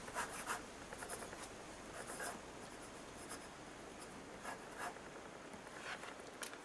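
A Parker Vector fountain pen writing on paper: soft, close scratching strokes in a quick, irregular rhythm, quiet and alone with no talking.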